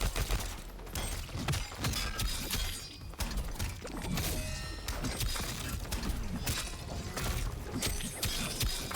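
Rapid-fire gunshots from the T-1000 kameo in Mortal Kombat 1 ring out in dense, continuous bursts mixed with clanking, ratcheting mechanical clatter, loud and busy throughout with no talking.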